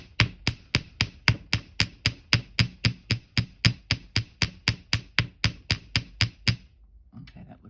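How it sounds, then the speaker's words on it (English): Steady, rapid hammer blows flatten metal wire for jewellery, about three per second, sharp and close, then stop. "So we're just hammering it down flat."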